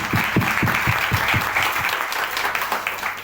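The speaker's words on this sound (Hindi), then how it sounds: "मैं प्लीज चाहता हूं एक बार जोरदार तालियां के लिए मिस्टर संजय पुरी प्लस।" A seminar audience breaks into loud, sustained applause for Mr. Sanjay Puri, a dense roar of many hands that holds steady throughout, with a few louder individual claps standing out near the start.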